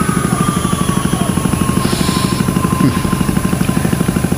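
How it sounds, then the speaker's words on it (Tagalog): An airplane engine drones steadily and loudly for the whole stretch, with a fast rhythmic throbbing pulse and no talk over it. "Klaro kayong eroplano eh."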